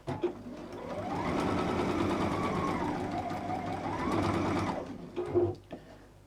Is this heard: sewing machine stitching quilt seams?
yes